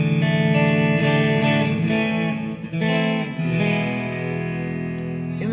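Frenzy Capricorn fuzz pedal, bought from AliExpress, driving an electric guitar through an amplifier with no other pedals on: thick sustained fuzzy chords and notes ringing continuously, loud and saturated, with a brief dip midway.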